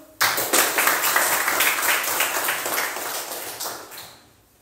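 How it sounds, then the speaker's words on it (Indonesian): A class of students clapping together in a school guidance lesson, a sudden dense burst of hands that holds steady for about four seconds and then quickly fades out. "tepuk tangan dulu"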